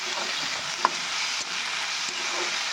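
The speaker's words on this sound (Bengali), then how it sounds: "দিয়ে ভালো করে এটা নাড়াচাড়া করে নিতে হবে" Chilli, garlic and ginger paste sizzles steadily in a pan, a loud continuous hiss with a few light clinks as it is stirred, and no voices.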